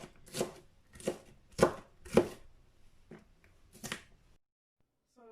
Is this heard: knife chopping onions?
yes